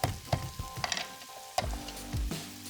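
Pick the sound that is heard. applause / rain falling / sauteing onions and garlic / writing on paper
sauteing onions and garlic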